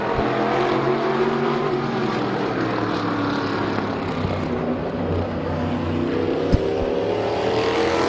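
Several race cars at Midvale Speedway roar together on a green flag restart, a dense, loud, steady engine drone holding throughout with no voices over it.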